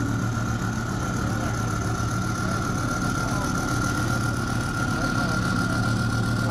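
A car engine idles steadily and loudly throughout, a constant low rumble with a faint high whine, close by and with no revving yet; it may be a high-performance car such as a Lamborghini, Porsche, Audi or Mercedes.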